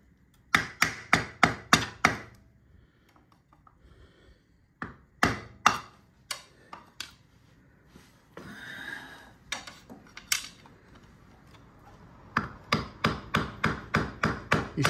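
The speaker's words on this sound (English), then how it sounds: "just give that a little tap" Sharp metallic hammer taps on a loosened engine oil sump pan, struck in quick bursts of four or five close, loud hits separated by short pauses, with quieter scraping and handling between bursts.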